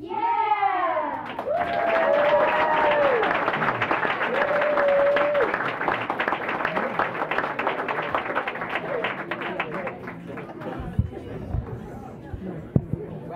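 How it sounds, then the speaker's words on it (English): An audience at a school board meeting applauds an elementary school performance. Loud, sustained crowd clapping with cheering and a few whoops over it fades into murmuring chatter and a few taps. "One more round of applause for Dullahan Elementary School."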